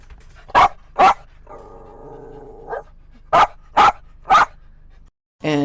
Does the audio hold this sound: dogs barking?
yes